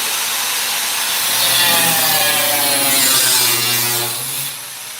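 Hand saw cutting through a wooden post, giving a loud, continuous rasping cut with a steady stroke texture that fades slightly near the end, close up.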